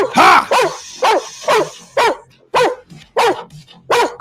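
Reaper, a kennel dog, gives a close, loud run of about eight evenly spaced barks in a steady rhythm, with faint background sounds between them.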